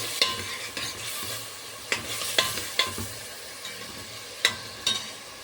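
Chicken is stirred in a pan with spices. A utensil scrapes and taps about ten times in an uneven rhythm over a low sizzle, close and moderately quiet, with no talking.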